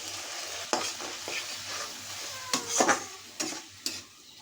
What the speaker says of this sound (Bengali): একটু পানি দিয়ে মশলাটা ভালো করে কষিয়ে নেব।